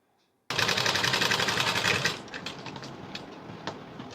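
A sewing machine runs fast and steady, stitching the collar of a high-neck blouse, close and loud, then slows into irregular bursts of stitching.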